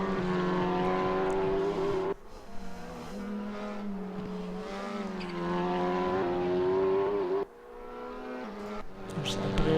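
A race car engine from a touring-car racing game roars around the Nordschleife, holding steady high revs with pitch rising through the gears, dropping briefly on two sharp shifts, loud and close throughout.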